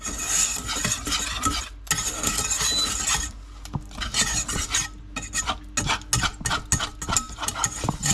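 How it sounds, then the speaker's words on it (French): A spoon scraping and stirring flour roux around the edges of a pan for béchamel, a raspy rhythmic scraping that starts continuous, then breaks into quick repeated strokes, close and clear. "Et on racle bien les bords."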